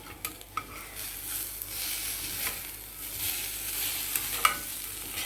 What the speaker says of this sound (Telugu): చక్కగా వేగిపోయిందండి ఇలా వేగితే సరిపోతుంది